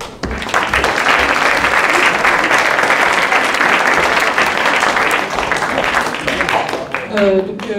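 Audience applause at an awards night for a short film, a dense, loud sustained clapping that fills the whole stretch, with a few voices rising near the end.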